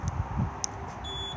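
A caravan alarm remote fob arming, giving a short electronic beep that stands out once against a quiet background hum.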